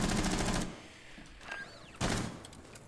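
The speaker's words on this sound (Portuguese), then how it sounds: "Ele atirou na parede e depois atirou em mim, velho." Bursts of gunfire in the video game Rainbow Six Siege, shots striking a wall, two loud volleys separated by a quieter gap with a brief ricochet-like whine between them.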